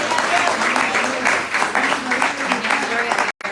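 A church congregation applauds in a steady, dense burst of clapping from many hands, loud and close, with voices mixed in before it cuts off abruptly near the end.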